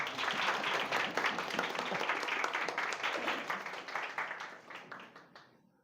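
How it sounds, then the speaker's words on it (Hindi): An audience at a Mother's Day church service claps for the mothers, a dense, steady burst of applause that slowly fades and dies away near the end. "अब सब लोग, बाकी लोग हम ताली बजा सकते हैं हमारी मम्मी के"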